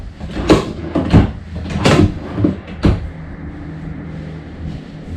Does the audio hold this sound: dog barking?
no